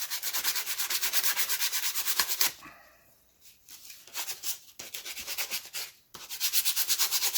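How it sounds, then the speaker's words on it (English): Sandpaper rubs back and forth over a wooden toy axe in steady, rapid strokes, close and fairly loud, pausing briefly midway before the scraping rhythm resumes. "I'm going to work on sanding some of this down, getting some of these edges off of it"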